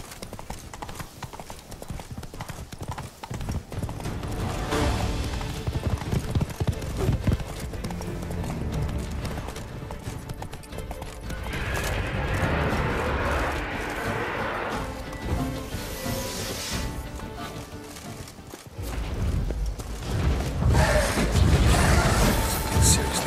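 Hooves of the horse Roach clip-clop steadily in The Witcher 3: Wild Hunt Blood and Wine, a continuous trotting rhythm up close with occasional crashes and game sounds layered over it.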